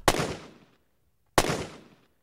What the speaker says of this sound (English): And then I've got our gunshot for the medium distance.